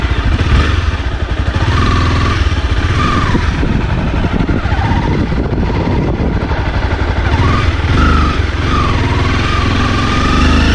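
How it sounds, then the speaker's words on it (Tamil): A Honda CBR 250R sports-tourer motorcycle engine drones loudly and continuously while riding, with steady rumble and wind noise and slight rises and falls in pitch as the throttle changes. "இப்போ வந்து பைக்கோட இன்ஜினை பற்றியும் பைக்கோட பெர்ஃபார்மன்ஸ் எப்படி இருக்குது அப்படிங்கிறதையும் நம்ம அப்படியே ரன்னிங்லேயே பார்க்கலாம்."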